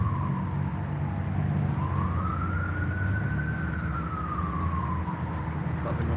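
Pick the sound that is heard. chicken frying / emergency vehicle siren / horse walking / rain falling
emergency vehicle siren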